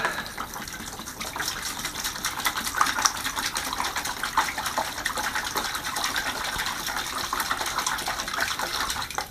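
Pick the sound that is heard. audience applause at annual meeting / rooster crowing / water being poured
water being poured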